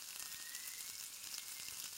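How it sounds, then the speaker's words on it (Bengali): Eggplant pieces fry in hot oil, giving a steady, close sizzling hiss with faint crackles throughout and no voices. "তারপরে কেটে রাখা বেগুনগুলো এক এক করে আমি তেলের মধ্যে দিয়ে দিলাম ভাজার জন্য।"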